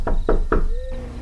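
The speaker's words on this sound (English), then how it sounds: "I knocked 1 more time out of desperation." Three firm knocks on a door land in quick, evenly spaced succession, loud and close, followed by a brief faint ringing tone and quiet.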